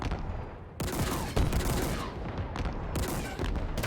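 Sniper fire from a Brute in Halo Infinite during a firefight at an enemy base, sharp loud gunshots cracking in bursts over continuous battle noise and rumble, close and heavy.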